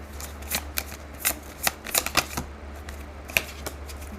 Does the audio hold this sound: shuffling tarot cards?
yes